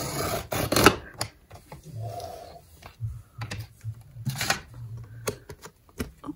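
A paper cutter forces its way through thick planner material in a series of short, scraping crunches with quiet pauses between them, heard close and moderately soft.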